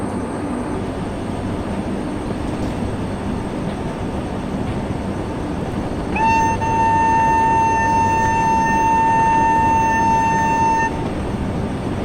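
Sabari Express locomotive in a train simulator game, with a steady rumble of rolling rail noise throughout and a sustained multi-tone horn sounding for about five seconds midway, then stopping as the running noise continues.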